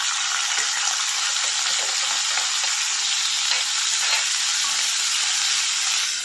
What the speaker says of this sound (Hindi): प्याज को हमने गुलाबी गुलाबी भूनना है।